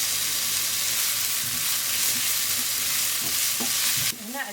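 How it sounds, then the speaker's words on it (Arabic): Onions fry in oil in a pan with a continuous bright sizzle, stirred now and then with soft scraping taps, close and steady until a brief louder clatter at the end. "نحمص البصل إلى أن يذبل"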